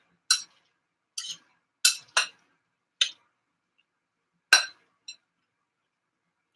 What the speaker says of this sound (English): Gonna just kind of stir that all in together.